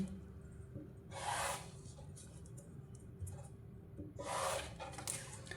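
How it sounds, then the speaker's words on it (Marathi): A marking line is drawn across Paithani blouse fabric during cutting: two faint, scratchy rubbing strokes a few seconds apart over a quiet background, with no talking. "बरोबर अशी लाईन मारून घ्यायची."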